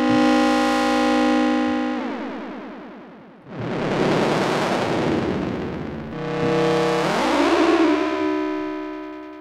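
Detuned classic rave synth tones from a Korg MS-20, loud and gritty, with a sustained buzzing chord followed by two swelling, distorted noisy sweeps that rise and fade.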